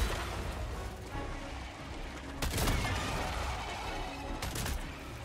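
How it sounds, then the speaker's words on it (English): Explosions from a crossbow bolt in the shooter game Helldivers 2, heard as two sharp loud blasts with a crackling burst, the first near the middle and a second near the end, over continuous battle noise. "See the radius here of the explosion."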